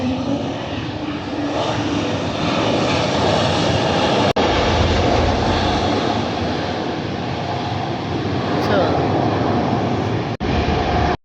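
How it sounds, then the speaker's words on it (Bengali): An IndiGo domestic airliner comes in to land, its engines roaring loud and steady throughout at close range, with a couple of brief sharp breaks in the sound. "এবার ওই দিক দিয়ে নামবে, দেখো এখানে আসতেছে, এ নামছে, এই ল্যান্ড করছে।"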